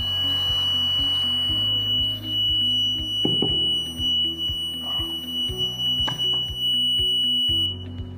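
A wireless rate-of-rise heat detector sets off a fire alarm: a loud, repeating electronic beep pattern with a steady high tone above it, continuing throughout. Short bursts of handling noise come in the middle, with no talk.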